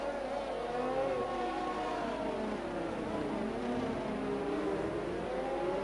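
Rough, wavering car engine note from a broken engine in the F1 2020 racing game at the Singapore track, a continuous strained drone with shifting pitch, steady and fairly loud throughout with no talk.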